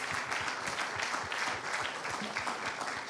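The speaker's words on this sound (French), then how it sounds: "On peut vous applaudir." An audience applauding the speakers at a conference on solar energy and electric mobility, with dense, steady clapping from a room full of people.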